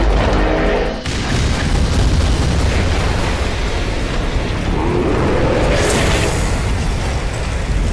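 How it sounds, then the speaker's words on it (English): A loud, sustained explosion roar from an airstrike in a Skibidi Toilet invasion animation, with a heavy booming rumble that dips briefly near the start and then keeps surging densely to the end. "That boy got hit with an airstrike from Call of Duty."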